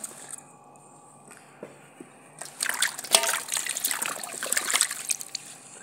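Carrots, cabbage, cauliflower and capsicum are rinsed under running water in a village kitchen, quiet at first, then a louder trickling, splashing stretch in the second half.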